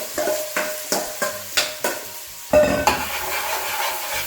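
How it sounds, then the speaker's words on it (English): Chopped large onion going into hot vegetable oil in a pan for chili con carne, giving a steady sizzle with a series of sharp stirring scrapes and clatters up close, then a louder burst of frying. "And to that, we're going to add our 1 large onion."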